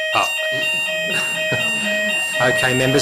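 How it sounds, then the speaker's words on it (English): A fire alarm sounds in a council meeting chamber as a steady electronic tone that holds throughout while a voice speaks over it. "That is the fire alarm, and it sounded."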